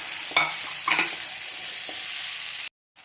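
Prawn fry with ginger, green chili, tomato and curry leaves sizzles steadily in a hot pan, with a few scraping stirs of the spoon over the constant frying hiss before it cuts off abruptly.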